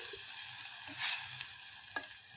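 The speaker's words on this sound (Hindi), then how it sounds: "अच्छे से मिक्स करके तेल के साथ इसको पकाएंगे।" Onions being stirred in oil in a clay handi pot for chicken sukka. A steady soft sizzle with a few light scraping stirs, quiet and close, and no voice.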